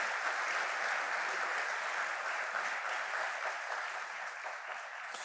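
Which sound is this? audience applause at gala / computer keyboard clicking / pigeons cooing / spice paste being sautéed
audience applause at gala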